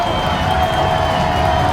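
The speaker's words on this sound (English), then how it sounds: "Crowd as loud as it's been all night" High school football crowd at a Hempfield at Manheim Central game roaring on fourth down, a dense, loud, continuous wash of cheering and shouting with no breaks.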